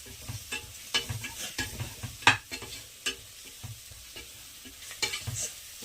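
Ground masala paste for chicken biryani is sautéed and stirred in a pan, with a soft sizzle under repeated scraping spoon strokes that come in an uneven rhythm, close by and with no talking.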